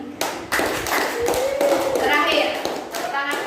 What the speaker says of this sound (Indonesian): Terakhir, tepuk tangan untuk kita semua